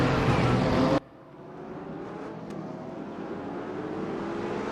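A Porsche GT3 R race car engine drones at Interlagos in RaceRoom, starting with a loud, dense roar that cuts abruptly to a quieter, steady engine hum that slowly builds.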